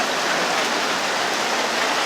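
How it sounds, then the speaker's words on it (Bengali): Heavy rain falls outside a tea shop, a loud, unbroken hiss of drops pounding surfaces, steady and close with no voices over it. "বাইরে অনেক বৃষ্টি পড়তেছে"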